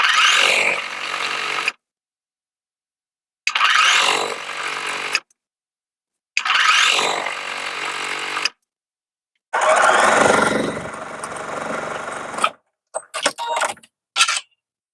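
Sewing machine stitching piping made from bias strips and macrame cord onto a denim bag, running in four loud, close bursts of whirring motor and needle separated by silences, then a few short stop-start taps.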